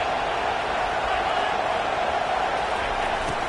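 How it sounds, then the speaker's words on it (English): Steady roar of a stadium crowd at a college football game, a dense wash of many voices cheering and yelling at constant loudness with no single voice standing out. "This crowd trying to make life miserable for this offense."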